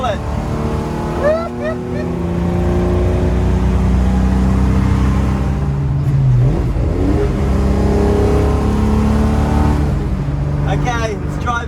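A Valiant car fitted with triple Weber carburettors drives along, its engine droning steadily and revving inside the cabin while someone talks over it.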